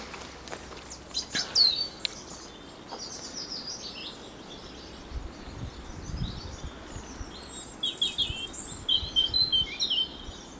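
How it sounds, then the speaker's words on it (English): Birds sing outdoors in Ireland, with scattered high chirps and trills, some distant and some nearer, over a soft, steady background hiss. "The bird song becomes more abundant."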